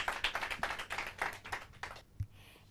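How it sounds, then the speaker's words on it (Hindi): An audience claps in rhythmic bursts for four teams at a Hindi quiz competition final. The moderately loud claps fade out toward the end. "जोरदार तालियां इन चारों टीम के लिए।"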